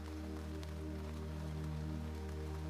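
Soft, steady rain patters continuously on leaves outside a window with scattered drops, quiet and even, over a low constant hum.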